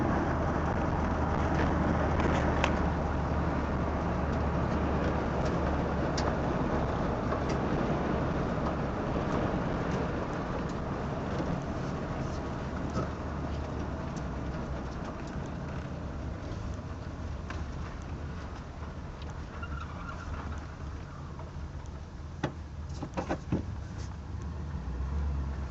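A 1973 Pontiac Catalina with 97,000 miles drives a dead-end road, its engine and tire roar held steady and close for a long stretch, with scattered faint clicks and knocks near the end.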